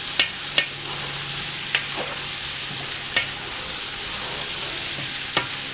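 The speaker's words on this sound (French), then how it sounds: "on mélange bien nos oignons qu'on va laisser revenir un peu dans les saucisses" Onions frying with smoked sausages (saucisses boucanées) in a hot pan, giving a steady close sizzle, while a utensil stirs with occasional sharp scrapes and clicks.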